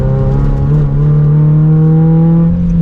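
A loud, deep rumbling AWE Track Edition exhaust on a Toyota GR86/Subaru BRZ holding a steady growl, the pitch rising slightly as the engine revs, close and sustained.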